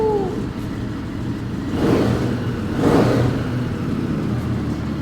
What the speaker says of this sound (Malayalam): ഇത് ഐക്സൈൽ പറഞ്ഞ ബ്രാൻഡിന്റെ അയൺ ഹെഡ് എക്സോസ്റ്റ്.